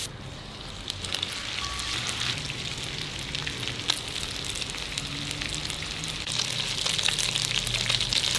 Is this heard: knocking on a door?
no